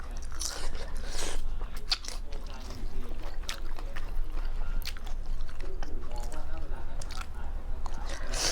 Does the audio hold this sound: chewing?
yes